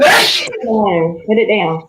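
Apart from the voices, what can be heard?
sneeze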